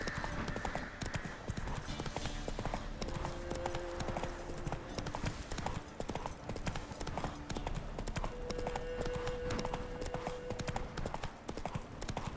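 Roach the horse gallops in The Witcher 3, with a fast, steady clip-clop of hooves pounding continuously at close range over a sustained tonal background.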